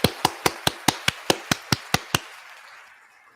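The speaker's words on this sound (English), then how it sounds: "Give a man another round of applause." Slow, evenly spaced hand claps, about eleven sharp and close, ring out in a podcast studio as a round of applause. A short reverberant tail fades after the last clap.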